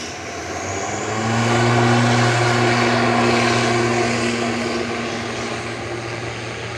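An ATR 72-600 turboprop, Air Ignis flight 671 heading to Guernsey, drones steadily at Manchester Airport with strong low propeller tones, swelling slightly then holding loud and close throughout.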